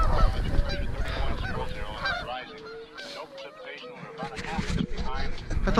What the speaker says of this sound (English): Look at all these geese.